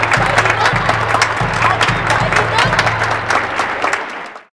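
A crowd of cartoon villagers in a Vietnamese folk tale roars and cheers over loud, regularly thumping drums, a dense, continuous din that fades out at the end.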